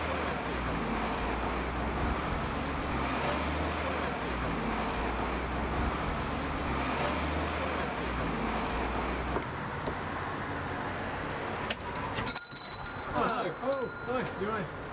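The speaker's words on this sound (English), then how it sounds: "We're just driving around Westcliff, and we're going to head off up to the shop." A car drives through Westcliff roads with a steady low rumble of tyres and engine heard from inside, plus wind and passing traffic, and brief clatter near the end.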